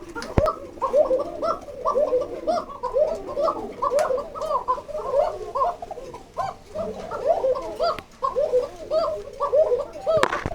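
Caged pigeons coo without pause at a pigeon farm, their overlapping throaty calls close by, broken by a few sharp clicks.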